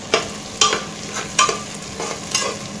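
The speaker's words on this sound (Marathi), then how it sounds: "मस्त सोनेरी रंग येईपर्यंत कांदा छान असा परतून घ्यायचा आहे" Chopped onion sautéed in a pan until golden, a close sizzle broken by four or five sharp scraping stirs at an uneven rhythm, with no voices.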